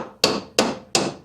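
Three evenly spaced, sharp hammer taps on the glued corner of a wooden five-frame nuc box, close and crisp, each ringing briefly before the next.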